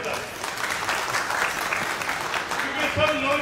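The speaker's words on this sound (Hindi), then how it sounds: "ताली बजाई जाए जोरदार" Dense audience applause fills a Mumbai Congress team declaration event, with many hands clapping steadily and loudly. The applause stays near and continuous, and voices mix faintly into it.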